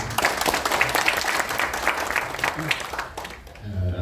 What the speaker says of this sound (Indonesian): boleh tepuk tangan untuk Brownies di sini